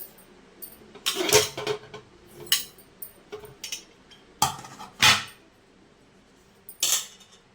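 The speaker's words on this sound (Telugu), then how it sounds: "ఇంకో ప్లేట్ కూడా పెడతానండి. 4 ప్లేట్లు పెట్టేసుకుందాం." Metal idli plates being stacked into a steamer: a series of sharp clanks and rattles, some loud and close, spaced irregularly with quiet gaps between them.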